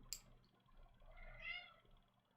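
A cat indoors gives one short, faint meow close by, heard against a quiet room background with no one talking.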